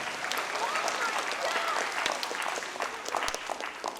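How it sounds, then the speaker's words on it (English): A room full of people claps steadily, a dense wash of applause that holds at even strength throughout. "What a round of applause for Mr. Hockey"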